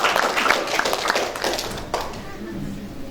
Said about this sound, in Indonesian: Tepuk tangan mana buat PBB.